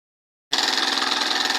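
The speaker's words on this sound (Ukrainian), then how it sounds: "Вчора доробив генератор. Поставив його на ножки, на колеса. Сьогодні підключив, вже завів" Homemade generator engine running steadily after being started, a loud continuous broadband roar that begins abruptly after a moment of silence and holds an even, slightly pulsing drone.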